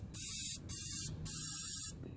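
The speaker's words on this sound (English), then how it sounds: "I'm gonna start spraying up, you know, all the things that need to come off the axles" Aerosol penetrating spray hisses in three close, loud bursts onto the axle parts, ball joints and motor mounts of a 2001 Honda Civic EX that has sat unmoved for two years.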